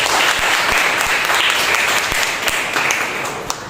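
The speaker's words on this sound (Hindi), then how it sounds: "एक जोरदार ताली बजाइए।" A Sunday church service congregation breaks into loud, vigorous clapping, a thick wash of hands with a few sharper claps standing out, easing off slightly at the end.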